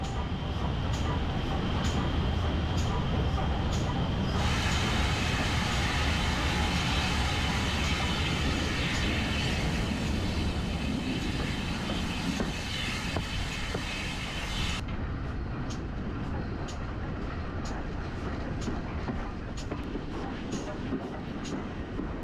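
A steam train on the Gloucestershire and Warwickshire Steam Railway runs downhill with the regulator mostly closed, giving a continuous loud rumble and rattle of carriages on the track, heard from on board with a shift in tone partway through.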